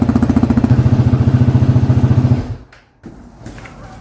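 An X-PRO Hawk DLX 250 EFI enduro dirt bike engine idles close by, a loud, even rapid thumping pulse that abruptly cuts out, followed by quieter low rumble.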